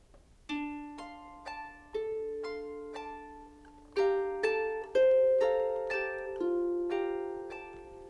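A harp plucks a slow melody, each note ringing out and overlapping with rippling arpeggiated notes above, calm and close.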